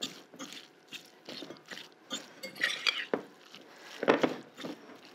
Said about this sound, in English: I'm just going to mash that together.